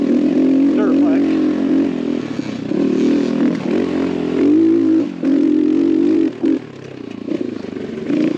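A small X Pro Templar 250cc dirt bike engine hums and revs steadily on a trail ride, close and fairly loud, with brief dips in throttle and someone talking over it.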